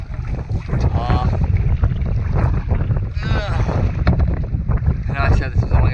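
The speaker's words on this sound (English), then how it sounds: "And there's actually some pretty good chop coming through in the middle of this here. And a real good headwind." Strong headwind buffets the microphone while choppy Mississippi River water slaps steadily against a small paddled boat, a loud continuous roar with a few brief voiced sounds over it.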